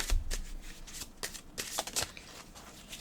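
A deck of oracle cards is shuffled by hand in soft, quick riffling bursts, quiet and close up, with faint slaps of card edges and no talking.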